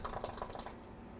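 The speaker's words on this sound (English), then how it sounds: "So now we're going to put 1 can of evaporated milk in the crock pot" A can of evaporated milk pours into a crock pot with a close, soft liquid splash and trickle that tapers off after under a second.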